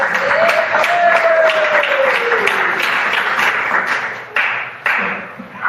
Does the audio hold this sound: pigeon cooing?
no